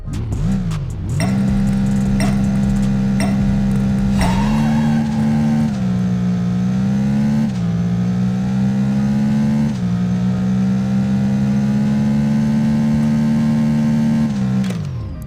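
A NASCAR race car in the Apex Racer video game roars with a loud, steady engine drone that rises and dips between shifts, with brief tire squeals under sustained acceleration.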